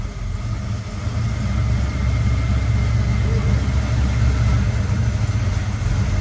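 A supercharged Corvette engine runs at a steady idle, close and loud, a continuous low rumble with a constant whine layered on top for several seconds.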